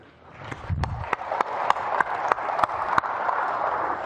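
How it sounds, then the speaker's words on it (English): Steady applause from an audience of MUFON members, a dense wash of clapping that swells in and holds, with a few sharper individual claps standing out. "give a round of applause for yourselves"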